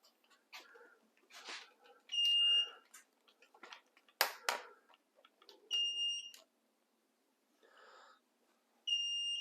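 A Saris powered eBike rack lowered to the ground sounds a warning tone: three sharp electronic beeps spaced a few seconds apart, clear and close amid quiet handling noises.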